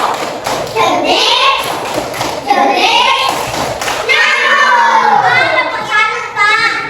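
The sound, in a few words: children doing a clapping game, "mosquito clap"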